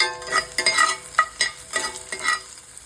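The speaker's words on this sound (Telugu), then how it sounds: "తాలింపు గింజలు, కరివేపాకు, ఎండుమిరపకాయ, ఉల్లిపాయ వేసి తాలింపు పెట్టాను." A tempering of seeds, curry leaves, dried chillies and onion fries in a pan while being stirred, close scraping strokes of a spoon over a soft sizzle, with no voices.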